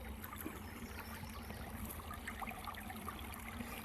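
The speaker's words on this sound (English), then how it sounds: "And I'll just rinse my net out." A fish net is rinsed out in water, with a steady soft trickling and sloshing throughout, fairly quiet and without talk.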